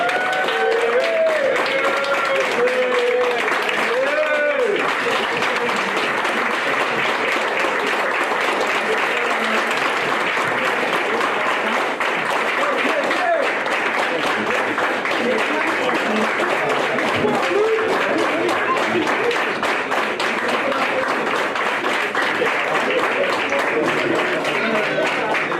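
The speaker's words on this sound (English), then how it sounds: "we make sure we give him a good round of applause to being back with the family" Sustained audience applause and crowd cheering for a football Hall of Fame inductee at a ceremony, loud and continuous throughout, with an announcer's voice carrying over the opening seconds.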